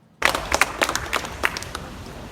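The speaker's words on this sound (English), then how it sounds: "And you hear people clapping." A crowd breaks into clapping that starts suddenly, with uneven bursts of hand claps, then thins out and fades toward the end.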